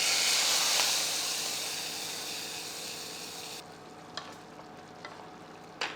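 Cashews fry in hot ghee with a bright, loud sizzle that fades as the stove is switched off, leaving softer crackles and a few faint clinks.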